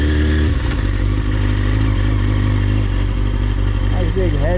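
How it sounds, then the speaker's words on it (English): A motorcycle engine idles and then pulls off slowly in first gear as the clutch eases out, a loud close steady rumble filling the clip. "Start off first gear, ease that clutch out."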